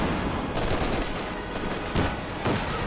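A machine gun fires in a World War II-style strategy video game, a loud, steady stream of rapid shots with a few sharper bursts standing out over continuous battlefield noise.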